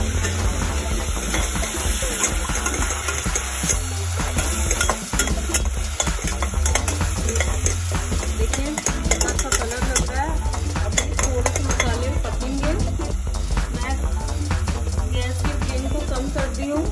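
Cashew, onion, tomato, garlic and ginger paste stirred in a hot pan while cooking pointed gourd curry, a continuous close sizzle with steady spoon scraping and clinks against the pan throughout.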